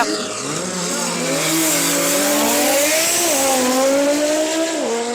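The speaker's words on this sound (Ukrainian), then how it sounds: "Ауді проти БМВ. Потужність приблизно 1000 кінських сил." Roughly 1000-horsepower Audi and BMW drag cars roar down the strip at a drag racing event in Odesa, a loud close engine note climbing steadily with abrupt gear-shift dips, joined by faint voices.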